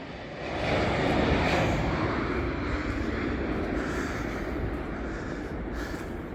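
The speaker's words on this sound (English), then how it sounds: "There's a Canada jet about to go over." An Air Canada jet passes low over houses near Heathrow Airport, its engines building into a loud, broad roar that holds steady as it flies overhead.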